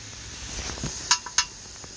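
Grass carp stir fry with garlic and dry ginger cooks on a Firedisc cooker, a soft sizzle under a few sharp metallic clinks of a utensil against the pan, close and fairly quiet.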